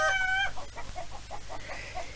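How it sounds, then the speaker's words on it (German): A hen clucks in a quick series of short, soft notes after a brief higher call at the start, fairly close but not loud, over a low background hum. "Guten Tag, Frau Huhn."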